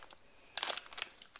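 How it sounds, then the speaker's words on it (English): Scissors snip and crinkle open the plastic wrapper on a figure set in a few quick, soft crackles, close and quiet with no talking. "let's open this up. I've got my scissors."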